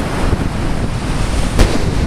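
Hurricane storm surf pounding against the end of a pier, a dense continuous roar of waves buried in heavy wind rumble on the microphone, with one louder crash near the end.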